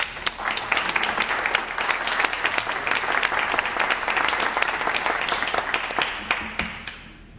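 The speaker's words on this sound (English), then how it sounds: "I haven't heard live audience applause." A live audience at an author reading gives sustained applause, dense and steady for several seconds before fading out at the end.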